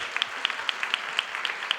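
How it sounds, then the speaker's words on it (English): Audience at a young women in business dialogue clapping, brief rhythmic applause with regular sharp claps standing out over a softer wash of hands, fairly close and moderate in level. "I think you need to give yourselves a round of applause."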